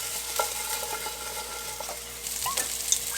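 Broccoli frying in butter in a pan is stirred, a steady close sizzle with scraping and clinking of the utensil against the pan throughout, a few sharper knocks toward the end.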